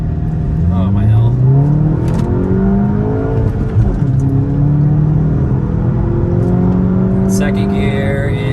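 A 2020 VW GTI MK7.5 with a small turbo accelerates hard from a launch, its loud engine note climbing steadily through the revs in a continuous close-up roar, with people talking over it.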